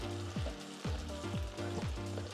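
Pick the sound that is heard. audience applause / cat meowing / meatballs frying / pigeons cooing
meatballs frying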